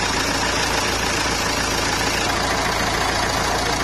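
A car engine idles steadily after a 10 km drive, a loud, even mechanical hum with a constant low throb that runs without a break and without voices.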